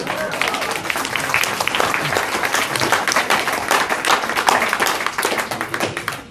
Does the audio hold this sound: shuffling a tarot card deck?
no